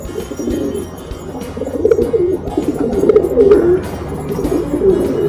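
A pigeon being handled for an ear treatment coos in low, rolling phrases that rise and fall over several seconds, close by against quiet background noise.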